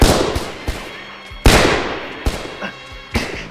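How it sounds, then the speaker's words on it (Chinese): Gunfire rings out in a 1985 Hong Kong police action film set in a village shootout: four sharp, loud shots spaced about a second apart, each trailing off with echo. "火力好猛啊！"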